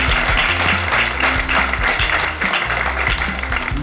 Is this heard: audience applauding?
yes